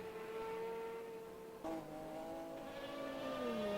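Ferrari and Porsche race cars in a sim racing game at a virtual Road America endurance race, their engines droning steadily and faintly at high revs, with a brief sharp shift or bump partway through.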